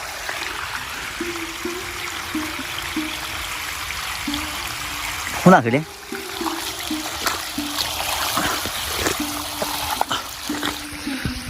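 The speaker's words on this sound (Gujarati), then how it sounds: "આ દા પાણી જુઓ" Water runs steadily through a farm field, a continuous trickling rush close by, with a brief spoken voice partway through.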